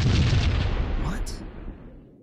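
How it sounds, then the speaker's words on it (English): Grenade explosions in the Max Payne video game on Android: a loud, dense low rumble right at the start that slowly decays over two seconds, with a brief higher crackle near the middle. "Somebody throwing grenades again?"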